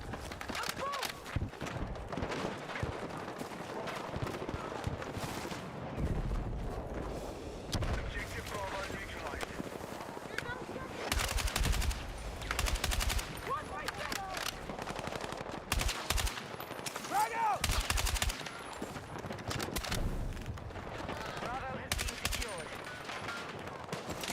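A hard-hitting, fairly high-recoil gun fires in the Battlefield 6 video game, with repeated bursts of automatic gunfire and sharp impacts through a busy battle. Other crackles and thuds mix in, and the shots come in irregular clusters.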